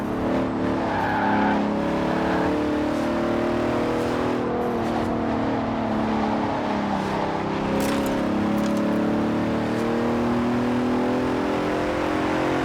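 A 2017 Bentley Continental Supersport with all-wheel drive and carbon fibre body parts, driven in Forza Horizon 4, drones steadily at close range with rising and falling engine pitch and brief tyre noise, and no one speaking.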